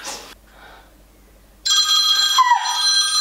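Telephone ringing: after a near-silent stretch with faint background, a loud electronic ringtone starts abruptly and continues to the end.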